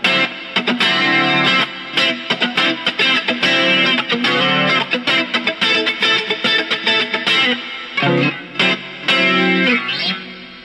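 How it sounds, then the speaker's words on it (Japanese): An electric guitar played through a BOSS GX-700 multi-effects preset: rhythmic cutting chords drenched in heavy delay and reverb, loud and continuous with echoing repeats trailing each stroke. "カッティングだけどディレイがバリバリにかかってる"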